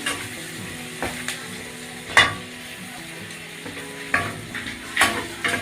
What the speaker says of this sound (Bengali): এবার একটু ভেজে নিচ্ছি আমি